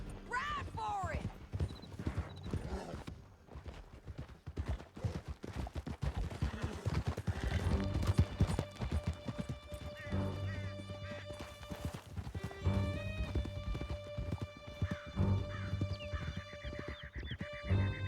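Horse hooves galloping in Red Dead Redemption 2, a rapid steady clip-clop under music and gunfire, with voices talking over the ride.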